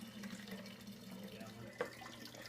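Water from rinsed honey containers pours into a 23-liter carboy for mead, a quiet trickling stream with a brief splash near the end, faint and close.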